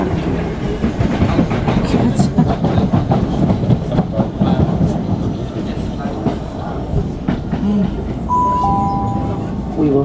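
A London rail train runs between stations near Herne Hill with a steady rumble and repeated clickety-clack of wheels over the track joints. The sound is continuous and close, and a voice speaks over it.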